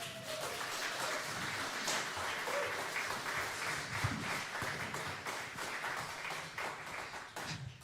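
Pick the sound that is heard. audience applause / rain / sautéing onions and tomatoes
audience applause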